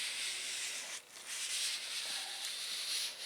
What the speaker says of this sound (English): it basically just scuffs up that rubber seal so that the adhesive backing tape on that will stick to it better